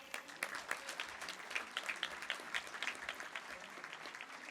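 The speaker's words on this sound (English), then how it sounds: "Can I have a huge round of applause for our guests?" Applause from an audience welcoming guests at a summit inauguration ceremony, a steady patter of many hands clapping that holds at an even, moderate level throughout with no talk over it.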